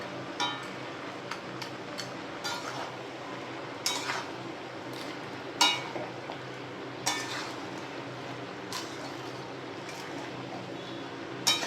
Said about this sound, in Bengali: এবার এর সাথে মাছের মাথাগুলো দিয়ে দেবো, যেগুলো ভেজে রেখেছিলাম, সব একসাথে মিশিয়ে নেব।